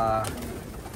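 Racing pigeons coo softly in a loft, a brief low murmur under a steady background hum, close by.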